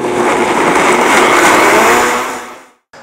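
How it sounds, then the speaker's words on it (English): A blender roars loudly and steadily for a couple of seconds blending hot cooked enchilada sauce with chipotle, then cuts off abruptly, followed by a brief click. "So I'm gonna blend this up."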